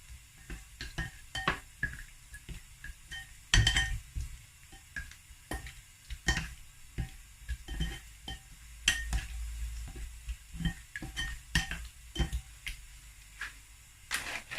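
Prawns being stirred into beaten egg in a frying pan, with a quiet sizzle under repeated scraping and tapping strokes of a utensil against the pan, no voices.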